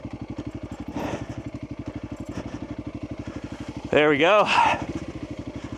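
Honda CRF300L dual-sport motorcycle ridden off-road on soft, muddy ground: a close, steady engine thrum with rapid firing pulses throughout, rising briefly in a short rev, and the rider speaking a few words partway through.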